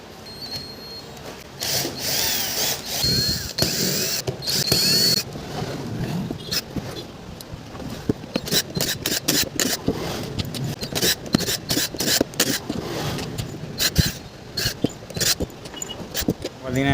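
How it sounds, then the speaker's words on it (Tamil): Power screwdriver bursts and small metal clinks as screws are removed from a DC 24V RO water pump, short whirring spurts between handling noises, close up, with someone speaking over parts of it. "அதில் இருக்க ஸ்க்ரூலாம் கழட்டிக்கலாம்."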